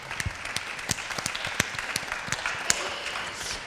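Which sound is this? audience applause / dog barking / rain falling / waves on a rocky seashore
audience applause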